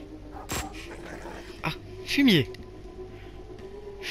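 A dog in the video game Hotline Miami 2: Wrong Number gives a few brief yelps and a falling whine, heard under someone talking in French over the game audio.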